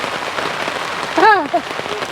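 Rain falls in a steady broadband hiss during a road trip in Coorg, with a brief voice rising over the patter about midway through.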